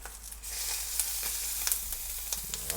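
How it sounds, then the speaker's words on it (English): Steady sizzling of mini sausages frying in a hot pan, with sharp pops and crackles as casings burst scattered throughout, close and fairly loud, no voices. "Put them on the strongest part of the heat. Alright, I'm starting to hear them pop."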